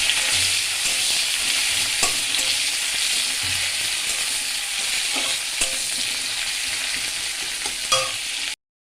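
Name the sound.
sliced onion frying and being stirred in hot oil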